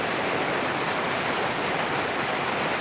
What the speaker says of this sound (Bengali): আজকে যখন বৃষ্টি এসেছে